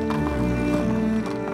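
Hooves of thirsty horses clip-clop on a road amid a 1940 wartime exodus of refugees, a quick rhythmic series of close taps over a droning tonal background.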